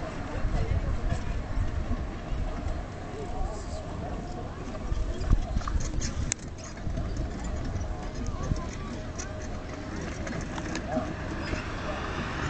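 Two horses pull a carriage at a driving day in Beyren-lès-Sierck, their hooves clip-clopping steadily on hard ground throughout. Someone narrates over the hoofbeats.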